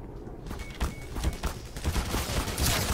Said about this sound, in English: Whatever's shooting me, that's not good.